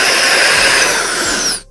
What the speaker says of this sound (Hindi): अब यहाँ पे इस जगह पे मैं ड्रिल मशीन की मदद से एक होल करूँगा, तो चलिए यहाँ पे होल कर लेते हैं।